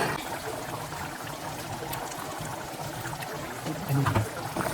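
Thick ground coconut paste pours into a pot of simmering tamarind curry with a soft, steady trickling and gurgling, close up, ending in a brief louder splash.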